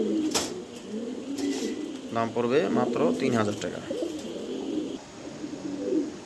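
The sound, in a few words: pigeons cooing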